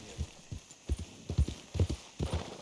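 Horse hooves clip-clop in Red Dead Redemption 2, an uneven series of close, hollow thuds that come steadily through the scene, with no talk over them.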